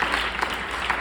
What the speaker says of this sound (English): Perfect applause break.